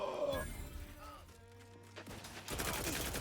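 Gunfire in The Outer Worlds 2 over busy game sound: shots and crashing impacts at the start, a quieter stretch with tonal hums, then a dense burst of firing near the end.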